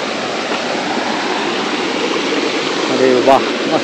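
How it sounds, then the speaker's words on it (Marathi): Large waterfall in a Konkan village, a loud continuous rushing roar of falling water close by, steady throughout, with a brief human voice near the end. "मोठा धबधबा कसा दिसतो"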